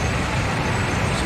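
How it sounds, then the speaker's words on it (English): Dense city traffic from the Spider-Man Miles Morales video game heard through a headset: a steady, close rumble of trucks, buses and cars with a hiss like air brakes, constant throughout with no talk. "you can hear cars and people coming and going from every angle and every distance"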